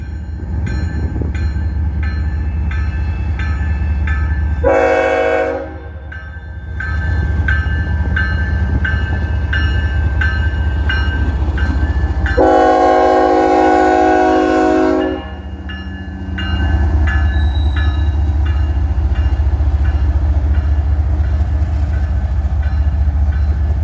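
A heavy freight train led by an ES44AC diesel locomotive rumbles past loudly and continuously while its horn sounds two long blasts, the second stronger than the first.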